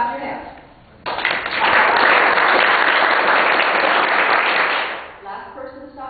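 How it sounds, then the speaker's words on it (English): Group hand clapping in a music and movement activity: steady, dense clapping bursts in about a second and runs loud for four seconds, then stops, with voices before and after. "Clap your hands."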